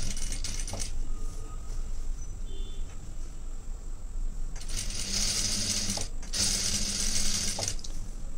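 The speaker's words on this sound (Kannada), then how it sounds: "ಈ ಮಿಷಿನಲ್ಲಿ ಏನಪ್ಪ ಇನ್ನೊಂದು ಅಡ್ವಾಂಟೇಜು ಅಂತಂದರೆ ನಾವು ಎಷ್ಟು ಸ್ಲೋಗಿ ಬೇಕಾದ್ರೂ ಹೊಲಿಬೋದು, ಫಾಸ್ಟಾಗಿ ಬೇಕಾದ್ರೂ ಹೊಲಿಬೋದು" A sewing machine stitches fabric, running in short bursts near the start, then in two longer, louder whirring runs separated by a brief pause, with quiet gaps between.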